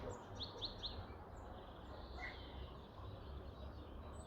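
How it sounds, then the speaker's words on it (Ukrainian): Several birds chirp and twitter outdoors in spring, their calls fairly faint over a steady background hiss, with a cluster of quick chirps near the start. "Послухайте, як співають пташки."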